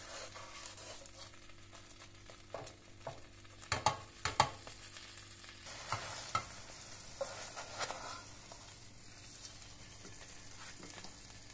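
Lavash filled with cheese, egg and greens fries on low heat in a covered pan, a quiet steady sizzle with a cluster of soft knocks and clatter in the middle.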